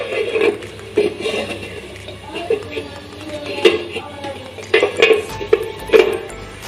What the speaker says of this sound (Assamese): এতিয়া মই ঢাকনখন আঁতৰাই